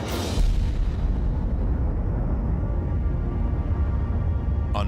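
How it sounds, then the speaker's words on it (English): A huge, sustained rumbling roar from America's first practical H-bomb, a thermonuclear test explosion in the Pacific, opening with a sharp burst and then holding a deep, loud, continuous boom. "in the Pacific, another test. America's first practical H-bomb."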